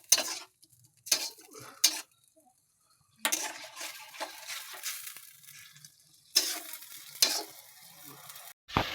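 Sauce poured into a pan for Manchurian and brought to a boil, with bursts of sizzling, stirring and utensil scrapes separated by quiet gaps, close and moderately loud.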